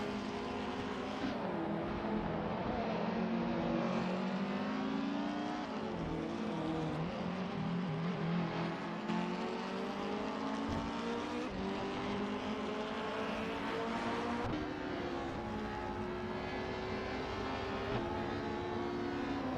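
Race cars in a BTCC video game at Snetterton, a steady, loud engine drone with rising and falling harmonic pitch sweeps as several cars rev and shift, running continuously with no speech.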